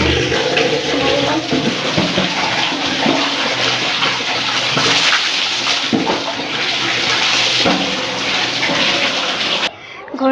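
Water gushing steadily from a motor-pumped tap for a bath, a loud, continuous splashing rush lasting nearly ten seconds before cutting off abruptly near the end.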